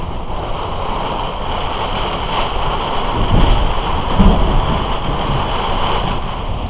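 Heavy rain pounds steadily on an RV during a storm with 60-80 mph wind gusts, with low thunder rumbling twice midway; loud, dense and continuous.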